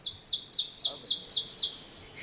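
An ovenbird sings nearby in spring woodland, a rapid run of about a dozen bright, rising two-note phrases that grows slightly louder before stopping abruptly.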